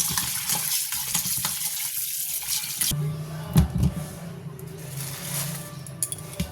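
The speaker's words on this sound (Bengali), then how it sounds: "চলো তাহলে মাছগুলো ধুয়ে নিই চিকেনগুলোকে একটু ধুয়ে নিই" A kitchen tap runs into a sink while raw hilsa fish and chicken are washed: a steady gush of water for a few seconds, then quieter splashing and rinsing with a couple of soft knocks against the sink.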